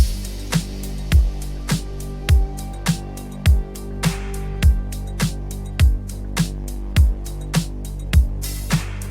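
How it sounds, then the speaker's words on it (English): A punchy retro drum loop with booming kicks and sharp gated snares in a steady mid-tempo groove, over a soft sustained pad. "Next I added this 80s drum loop from Splice."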